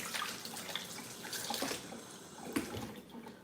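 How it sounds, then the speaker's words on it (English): Tap water runs steadily into a sink while hands are washed beneath it, a close, continuous splashing with small shifts in the flow. "I'm gonna wash my hand."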